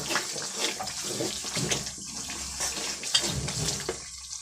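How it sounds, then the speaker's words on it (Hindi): Tamarind juice pours into frying masala for spiced eggplant, a close, continuous splashing and gurgling with faint sizzling underneath. "ये इमली का रस भी डाल देंगे।"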